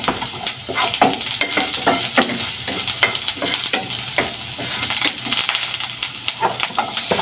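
Garlic and onion sizzle in a little hot oil in a pan. A steady frying crackle runs throughout, broken by repeated scraping and clacking strokes of stirring. No one speaks.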